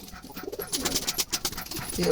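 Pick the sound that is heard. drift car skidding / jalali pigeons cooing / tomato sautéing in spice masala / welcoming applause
jalali pigeons cooing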